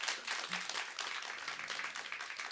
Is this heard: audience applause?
yes